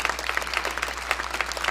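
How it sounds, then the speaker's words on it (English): Church congregation applauding in a sanctuary, dense, lively clapping from many people, sustained and fairly loud, with a faint low hum beneath. "So can we tell our online campus right now a round of applause?"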